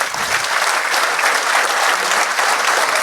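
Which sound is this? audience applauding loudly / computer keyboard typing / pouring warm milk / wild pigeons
audience applauding loudly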